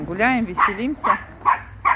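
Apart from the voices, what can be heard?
chihuahua dogs barking outdoors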